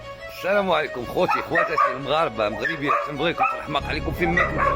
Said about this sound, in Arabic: هذا الكلب اللي نعرفكم به